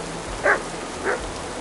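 A dog barks twice in Kingdom Come: Deliverance 2, two short, fairly close woofs about half a second apart over steady rain-like background hiss.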